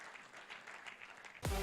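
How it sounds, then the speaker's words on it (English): Faint, distant applause from an awards-ceremony audience honouring a winner, a steady wash of clapping that is cut off abruptly by a louder low sound at the very end. "Please give it up once again with one big hearty round of applause for them."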